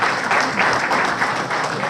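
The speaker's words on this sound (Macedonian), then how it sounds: "Почитувани уште еден аплауз за овие млади спортисти" Dense, sustained applause fills a hall for young athletes at a sports awards event in Probištip, a crowd clapping together at an even level throughout.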